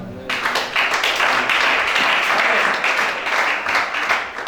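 A church congregation claps together in a sustained burst of applause, many hands close and lively, with a brief voice at the start before the clapping takes over.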